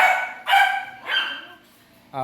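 A dog lets out two or three loud, close barks, then a short gap and another yelp-like sound at the end.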